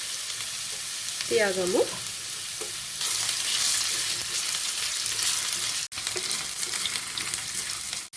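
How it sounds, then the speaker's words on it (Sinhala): Cut potatoes fry in hot coconut oil, a steady, close sizzle with brief stirring scrapes near the start, continuing throughout with a short spoken word over it. "තෙල් ටික රත් වෙනකොට කපාගත්තු අල ටික එකතු කරගමු. එකතු කරලා ටිකක් තෙලේ බැදෙන්න"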